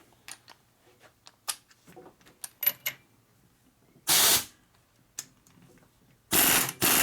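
A ratchet tightens a Time-Sert thread repair tool on a cylinder stud of a Milwaukee Eight, Evo or Twin Cam engine. A run of sharp, close mechanical clicks is followed by two loud, rough bursts a couple of seconds apart.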